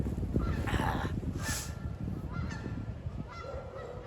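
Several geese honk loudly and repeatedly close by, their harsh calls overlapping in a noisy, continuous clamor.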